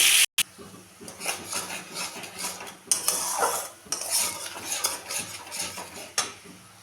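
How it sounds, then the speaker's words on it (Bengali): A spoon clinks and scrapes against a pan as spice paste is stirred and fried in oil, with rhythmic stirring and a soft sizzle underneath. "এখন আমি তেলের মধ্যে দিয়ে দেব, দিয়ে ভালো করে কষিয়ে নেব"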